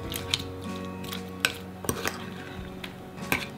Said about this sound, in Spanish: Y seguimos mezclando súper, súper bien.